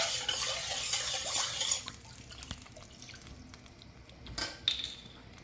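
Water splashes and sizzles into a hot frying pan of browned vegetables while making avocado salsa, a busy hiss for the first two seconds that then thins to quieter drips and a few small clinks.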